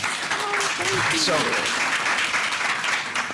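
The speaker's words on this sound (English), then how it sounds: "please clap for everybody" An audience claps at a board meeting, a broad, steady wash of applause lasting several seconds, while a voice speaks over it near the start.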